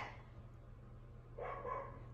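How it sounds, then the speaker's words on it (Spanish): A dog barks a few times at a distance over a steady background hum, the yaps clustered near the end of the short stretch. "El perro."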